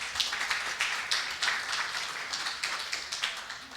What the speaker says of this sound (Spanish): denles un fuerte aplauso a estos chicos